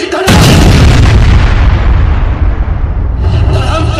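A stage-play explosion effect at a train station bursts in suddenly, very loud, and rumbles on as a sustained, roaring blast that slowly decays.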